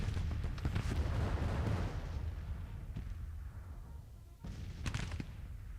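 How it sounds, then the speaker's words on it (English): Artillery on a Grand Tactician: The Civil War battlefield, fought at Antietam: a long, distant rumbling roar of cannon fire that fades, then a few sharper booms. "Eating a lot of artillery fire here, though."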